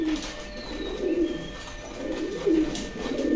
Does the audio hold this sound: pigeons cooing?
yes